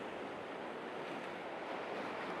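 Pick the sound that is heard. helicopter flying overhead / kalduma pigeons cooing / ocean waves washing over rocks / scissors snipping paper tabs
ocean waves washing over rocks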